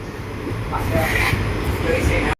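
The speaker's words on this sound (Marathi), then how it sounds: "आपली ट्रेन निघालेली बघा रोटेगाववरनं" A train pulls out of Rotegaon station, its steady low rumble and rolling rail noise filling the carriage up close, with a voice speaking over it.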